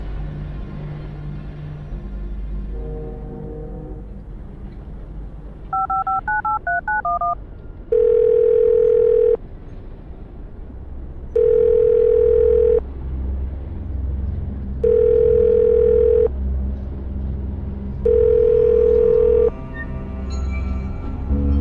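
Touch-tone dialing from the video game Art of Murder: FBI Confidential, a quick run of DTMF key beeps followed by four evenly spaced, loud ringback tones against a steady background hum, with no talking.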